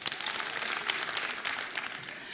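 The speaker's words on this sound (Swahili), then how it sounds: "Apigiwe makofi." A crowd at a political rally applauds with a dense, steady patter of clapping that carries on evenly at moderate volume, with no voices standing out.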